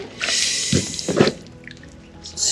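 Water gushes from a rebuilt well pump, a close, bright splashing rush with a couple of louder surges before easing off.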